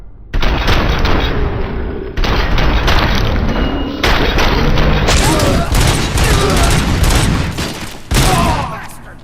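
Heavy gunfire from a bank vault assault in the game Robocop: Rogue City, loud and continuous, with dense automatic bursts and booming impacts that keep going almost without a break.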